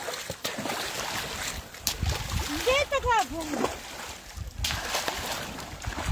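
Splashing as carp are released from a net into a pond or lake, with water sloshing and dripping across the clip while several people talk and shout nearby.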